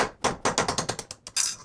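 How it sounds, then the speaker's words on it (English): A hammer strikes a 1/8 inch punch to knock a pin out of a KitchenAid stand mixer, about ten sharp metallic taps in a quick, slightly uneven rhythm, close and loud. "you're gonna need a 1/8 inch punch and a hammer. And let's go ahead, we're just gonna knock that out of place."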